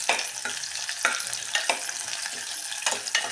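Onions and green chillies frying in oil while being stirred, with a continuous crackling sizzle broken by regular scraping strokes of the spatula, close and fairly loud with no talk.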